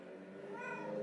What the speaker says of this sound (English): That's a cat in town.